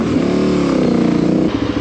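An adventure motorcycle engine revs steadily and loudly close by, a rising, strained drone that holds for over a second before dropping to a choppier, pulsing idle.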